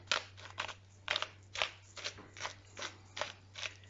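Salt being shaken into a vegan pâté from a small container, a steady series of about nine short gritty rattling bursts at a regular rhythm, close and fairly quiet, with a low steady hum underneath and no talk.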